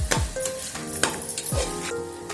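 Mutton curry with tamarind leaves and raw mango being stirred in a pan, a spoon scraping and clinking against the metal in a few slow strokes over a soft steady sizzle, close and moderately loud.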